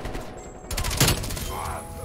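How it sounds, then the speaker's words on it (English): Gunfire from an FFAR rifle loaded with orange and green tracer rounds in Black Ops Cold War, a dense burst of rapid shots in the middle of the clip with game noise and talk around it. "We're using the new Wee Lad FFAR gold dismemberment round with orange and green tracer fire"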